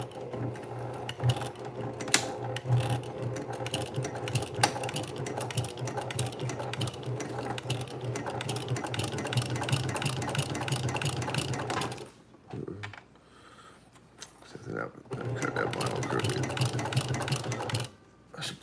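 A Brother PQ1500SL sewing machine stitches a vinyl bag in fast, steady mechanical bursts, stopping briefly partway through and then starting again, heard close with a faint voice now and then.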